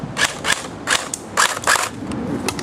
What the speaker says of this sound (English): for the Cybergun FAMAS firing test